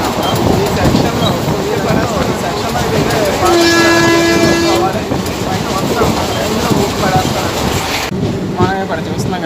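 A Machilipatnam Express train runs steadily on a loop line, its wheels and carriages rumbling loudly throughout, while a sustained horn blast sounds midway for about a second and a half.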